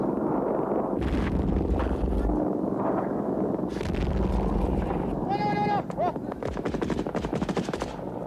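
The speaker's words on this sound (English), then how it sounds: "Soviets dug in at the edge of the village, lay down covering fire." Soviet troops dug in at a village edge lay down covering fire: dense gunfire and machine-gun bursts with heavy booms, loud and continuous, with shouting voices and an animal-like bleat mixed in.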